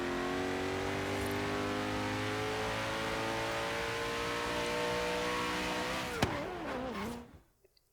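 A racing car in Forza Horizon 3 holds a loud, steady engine drone that climbs in pitch, then drops abruptly as the revs fall near the end, and fades out.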